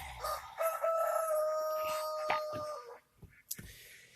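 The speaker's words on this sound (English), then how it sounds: "Try not to pay attention to the annoying rooster" A rooster crows out in the woods, a single drawn-out call at moderate distance, followed by a few faint clucks and rustles.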